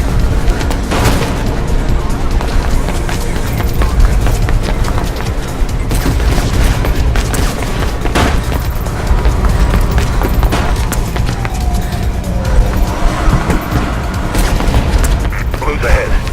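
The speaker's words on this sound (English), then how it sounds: "I can hear gunshots" Dense bursts of gunfire and booms fill the Mirror's Edge video game without a break, loud throughout, while voices talk over the din.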